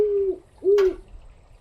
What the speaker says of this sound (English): There's that pesky owl up there.